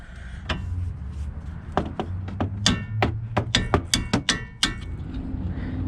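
A hammer strikes the outer tie rod on a 2005-2010 Pontiac G6, a loud metallic whack or two and then a rapid irregular series of sharp blows over a low steady background hum.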